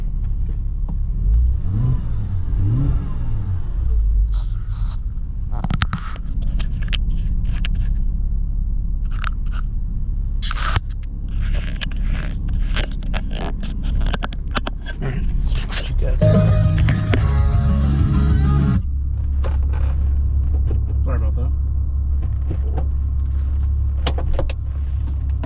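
A 2008 Porsche Cayman S with a 3.4-liter engine and six-speed manual runs steadily with a deep, close rumble that swells in a brief rev midway, along with some light rattling and jangling nearby.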